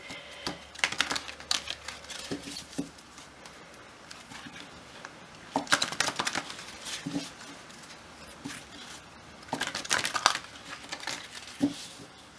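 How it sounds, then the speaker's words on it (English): Tarot cards being shuffled by hand, with soft papery riffles and taps in three short bursts, close and quiet, with no talking. "We just do a little bit of shuffling."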